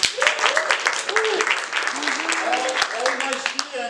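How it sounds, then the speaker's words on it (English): Audience applause at a taekwondo camp event, steady dense clapping throughout under continuous loud talk and shouting from an instructor. "give them a round of applause"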